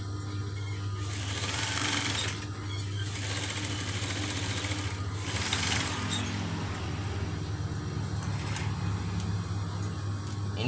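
A sewing machine stitches wire into a cloth face mask, running as a continuous loud, buzzing motor hum with a rapid needle rattle that swells and eases slightly throughout.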